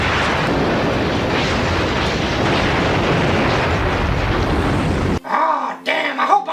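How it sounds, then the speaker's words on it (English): A loud, sustained roaring blast from the science-fiction horror series Nightflyers, set in a starship's common area, rumbling dense and broad for about five seconds before cutting off abruptly into quieter scattered sounds. "It all leads up to this nice little explosion in the common area."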